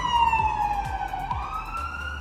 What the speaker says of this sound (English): I got my ambulance coming by right now. As you can see, it's about to pass by.